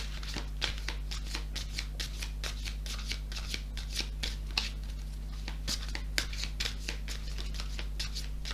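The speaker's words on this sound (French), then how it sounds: "On va tirer quelques cartes de la sagesse de l'oracle." Oracle cards are shuffled by hand in steady rapid riffles and taps, close and clear over a low constant hum.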